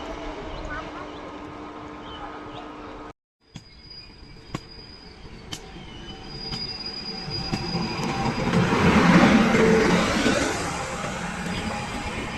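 The East Coast Express passes a village station in India, its rumble and clattering wheels building to a loud roar, with a few sharp metallic clanks and a person talking nearby.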